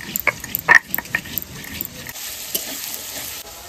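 Fish fry in oil in a pan, with a steady sizzle under scattered clinks and scrapes of a utensil stirring against the pan.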